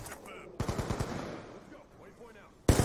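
Automatic gunfire in Call of Duty: Black Ops II, a quick burst of several sharp rapid shots followed by quieter battlefield noise and a loud shot at the end.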